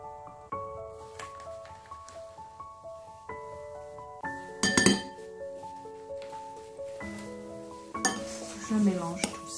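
A spoon stirs grated parmesan into crushed biscuit in a bowl for a tartlet base, giving close, repeated clinks and scrapes with ringing bell-like tones, while a voice talks intermittently over the mixing.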